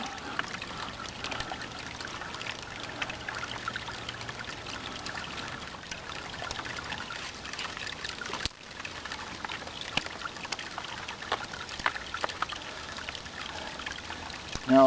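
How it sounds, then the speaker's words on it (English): Cold spring water pours steadily into a hiking water bag, a continuous trickling flow with a soft splashing texture and no break apart from a brief dip midway. "Fill the water bag. Which is easier in some springs and harder in others."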